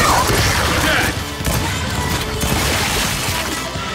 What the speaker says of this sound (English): I shot him in his breastbone.